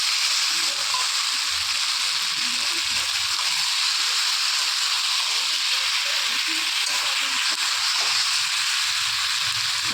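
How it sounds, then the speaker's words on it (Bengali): Elephant foot yam and potato sautéing with spices in a pan, a steady loud sizzle and hiss throughout with occasional stirring scrapes, close up. "দেখুন মশলাটা দিয়ে দিলাম, এখন মশলাটা দিয়ে কষাবো"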